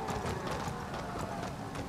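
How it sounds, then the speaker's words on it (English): Horse hooves clip-clop in Elden Ring, a quick, steady run of hoof strikes over a busy game soundscape, moderately loud and with no one talking. "Is this that guy's horse?"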